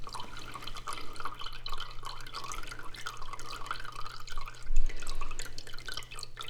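Juice from crushed, home-canned zucchini mock pineapple drains into a cup, soft irregular drips and trickles heard close up against a low steady hum, with no talking.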